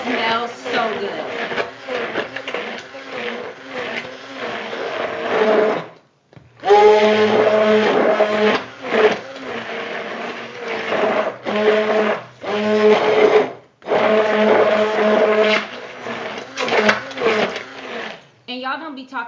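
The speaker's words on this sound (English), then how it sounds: "we're going to go ahead and blend everything again" A blender whirs in bursts while blending sweet potato pie filling, with the motor stopping briefly and restarting several times; a voice is also heard.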